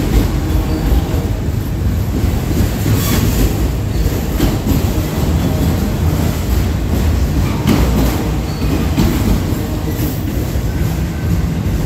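A long freight train with mixed stock, including a Southern Pacific car, rolls steadily past on the Norfolk Southern line through Jeannette, Pennsylvania: a loud, continuous rumble of wheels on rails with rhythmic clicks and occasional squeals.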